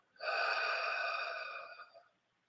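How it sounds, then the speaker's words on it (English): A single long breath during meditation, drawn through the nose or mouth for about two seconds. It starts abruptly and fades slowly, close and clear with no talk over it. "Another inhale, exhale."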